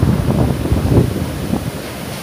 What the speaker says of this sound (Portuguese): As ondas aqui são mais fortes, né?